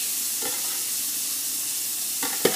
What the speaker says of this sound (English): now I'm going to add the onions. So I want to saute these, get them nice and softened up